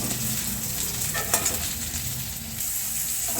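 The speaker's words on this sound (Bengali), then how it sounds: "পটলগুলো আমি লাল লাল করে ভেজে নিলাম" Pieces of pointed gourd fry in hot oil left from cooking fish, a close, steady sizzle with soft crackles and a few louder spatters and stirring scrapes midway, no voices present.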